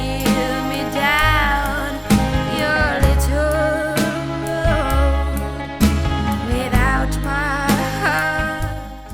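A full music mix with one big cathedral-style reverb shared across the snare drum, tambourine and lead vocal. A singing voice runs over punchy, regular drum hits, and a long reverb tail fills the space between them.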